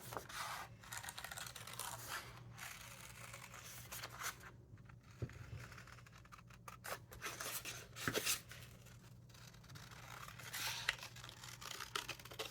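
Scissors cutting a curvy paper number 2 out of paper, a near, continuous run of crisp snips and rasping slices with short pauses and paper rustles as the sheet is turned.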